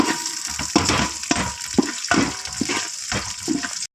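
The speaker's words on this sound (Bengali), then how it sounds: "তারপর এর মধ্যে কিছুটা কিশমিশ দিয়ে দিলাম এবার দুটোকেই ভালো করে ভেজে নিতে হবে" Raisins fry in a pan for basanti pulao, with a soft sizzle broken by regular scraping bursts as the spoon stirs them about every half second, close and moderately loud.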